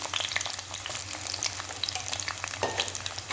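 Shallots and curry leaves fry in hot oil with mustard seeds and fenugreek, a dense, steady close sizzle crackling without pause and with no voices.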